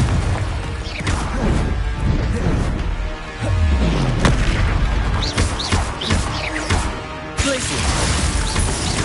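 Hogwarts Legacy gameplay in which the Confringo blasting spell goes off, with loud crashing explosions and heavy thuds mixed with magical whooshes and rumbling over a busy game soundtrack.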